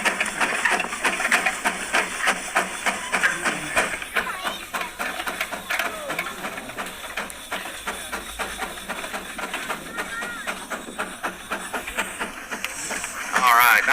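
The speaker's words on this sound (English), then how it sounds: "our Cracker Jack 40-horse JIK steam traction engine is about to put on a display of the power of steam" A Cracker Jack 40-horse steam traction engine climbs an incline, giving a steady run of rapid chuffing beats over mechanical clatter, close and loud throughout, with a brief sharper burst near the end.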